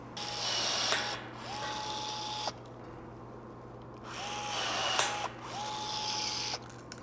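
Rivets are popped to fasten Zeus springs on a quarter midget race car chassis, with a rivet tool whirring in two bursts, each ending in a sharp snap, close up with no talking.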